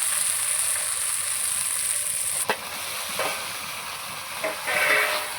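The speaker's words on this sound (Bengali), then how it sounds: "এবার এর মধ্যে আমি পটল আর চিংড়ি মাছ ভাজাটা দিয়ে দেবো" Fried pointed gourd and shrimp sizzle steadily in hot oil and spice paste, a constant close hiss with a few brief stirring scrapes and bursts near the end, no talking.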